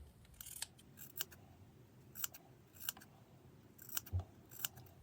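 Scissors cutting fabric for layered flowers, a quiet series of crisp snips in small irregular clusters, heard alone without talk.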